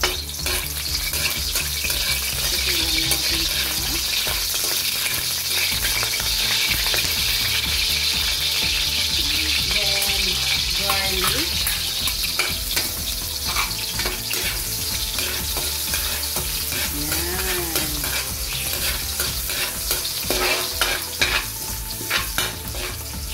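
Onion frying in hot oil in a kawali for chop suey, a loud continuous sizzle with repeated scraping and clacking as it is stirred, busy and close throughout.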